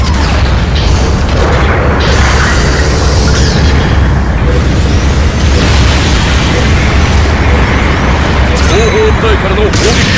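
Artillery bombardment in Gundam Battle Operation 2, loud dense booms and blasts churning continuously under constant mechanical battle noise, with voices talking over it.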